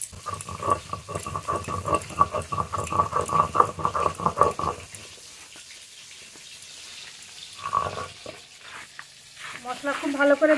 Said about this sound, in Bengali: মাছ একটু হালকা করে ভেজে নিয়েছি